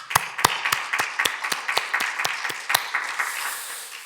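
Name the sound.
congregation applause in church service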